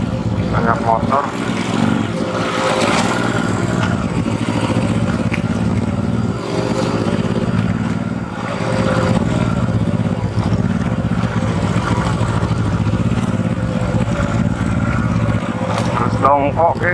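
Many motorbikes ride through Sancang forest on the way to the beach. Their engines buzz and rumble loudly and steadily at close range, surging as bikes go by, while people talk underneath.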